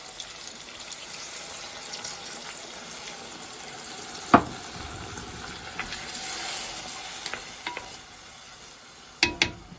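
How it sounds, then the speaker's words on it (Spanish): Broth is poured into a hot pan of sautéed shiitake mushrooms, giving a steady sizzle and stirring with a few sharp clinks of utensils against the pan. "Subimos un poquito el fuego y le tiramos el caldo."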